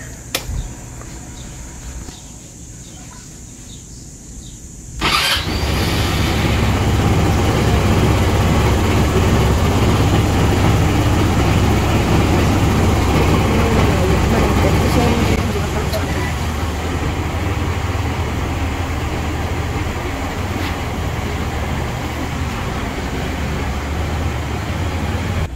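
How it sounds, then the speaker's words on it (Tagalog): A Motorstar Easyride 175 motorcycle engine fires up after a few seconds of quiet background. It settles into a steady, loud, close idle that runs on without a break, with a voice speaking over it. "At start po natin yung ating motor. I-idle lang po natin siya for 5 to 10 minutes"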